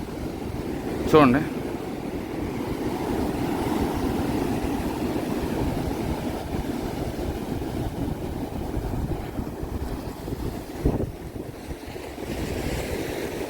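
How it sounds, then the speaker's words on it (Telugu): Rough surf breaks on an Andhra beach, a steady windy roar of waves running throughout with a brief voice near the start. "వేవ్స్ అల్లాడిస్తున్నాయి"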